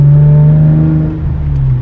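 A Hyundai Genesis Coupe 3.8 R-Spec with a straight-pipe exhaust, a loud, close, deep droning engine note that holds steady and then dips slightly over about two seconds, with no talking.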